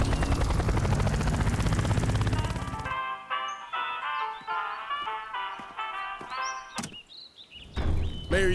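Cartoon rescue helicopter in flight heading toward a forest fire, a dense loud whirring drone that cuts off abruptly, followed by scattered clunks and musical tones.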